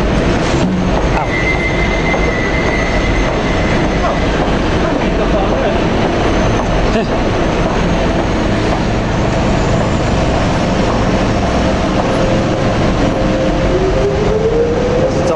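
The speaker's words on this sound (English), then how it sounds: "There's the Docklands Light Railway gone." A Docklands Light Railway train in London rumbles past close by with a loud continuous roar, wheel clatter and a rising squeal near the end, with people speaking briefly nearby.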